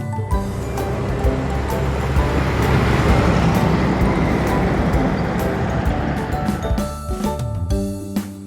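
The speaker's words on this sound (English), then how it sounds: "London bus." A London bus moves through city traffic, with a steady, broad roar of engine and road noise close by that swells in the middle and ends in scattered clatter.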